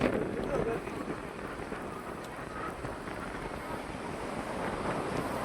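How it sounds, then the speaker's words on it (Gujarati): Steady rain pours down at an outdoor fair on Bhadarvi Poonam, a dense continuous hiss with faint background bustle throughout. "વરસાદ અત્યારે ચાલુ થઈ ગયો છે."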